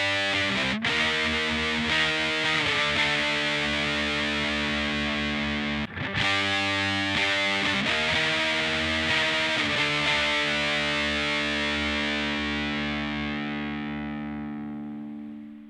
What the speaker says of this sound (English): use a distortion pedal